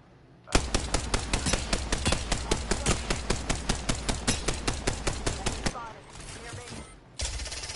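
Automatic weapon fire in the video game Apex Legends, a loud rapid burst of evenly spaced shots lasting about five seconds, then a short pause before more gunfire sounds resume.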